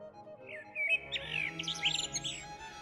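A blackbird gives a short run of clear, rising and falling whistled notes, moderately faint over a soft low background hum, with no voices.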